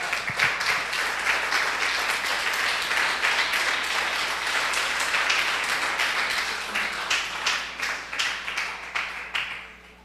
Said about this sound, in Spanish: ¿Cuánto le dan un aplauso al Señor Jesús?